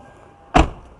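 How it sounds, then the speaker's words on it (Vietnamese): A 1998 Toyota Camry door swings shut with one solid, heavy thump, close by, after a short quiet moment, and then fades quickly. "tiếng đóng cửa xe nghe nó cũng đã nè các bạn."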